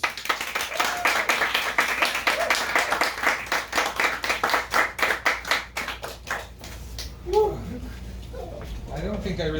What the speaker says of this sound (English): a big, warm round of applause for our first open mic participant, Circus Mouse!